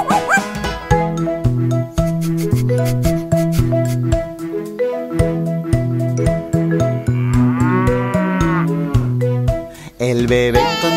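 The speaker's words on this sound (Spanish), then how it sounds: "El bebé encontró a la vaca" Cartoon cow mooing in a Spanish children's farm song, a long drawn-out moo rising over a bouncy, steady musical backing with no singing at that moment.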